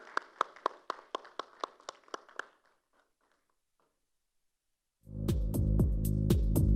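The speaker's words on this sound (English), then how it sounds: "Can we have a huge round of applause for her" A small audience at a corporate panel event claps in a short run of distinct, fairly close hand claps that taper off into near silence before a loud steady hum cuts in.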